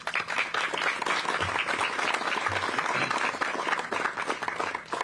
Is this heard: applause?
yes